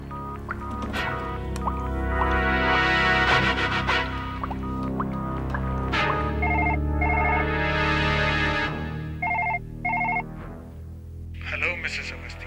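An outgoing phone call in a horror TV drama rings back in short paired tone bursts, heard over dramatic background music with some voices.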